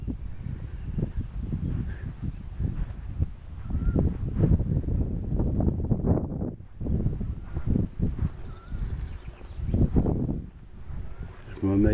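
Strong wind on a hike above the Semois valley buffets the microphone in heavy, gusting rumbles, with a person speaking over the blustery noise.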